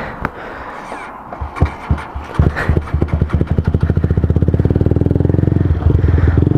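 Motorbike ridden with a snapped clutch cable: scattered knocks and clatter at first, then the engine catches into a loud, steady, close-up rapid thumping idle that holds to the end.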